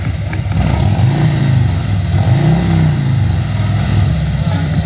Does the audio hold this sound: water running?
no